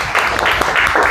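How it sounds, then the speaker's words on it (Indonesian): Classroom applause for a student, a short burst of clapping from a group of pupils, fairly close and loud, lasting about a second. "Tepuk tangan untuk Patir"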